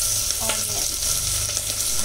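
Onions and dried red chilies sizzle steadily in a pan, with a few light stirring scrapes over the brief stretch and no talk.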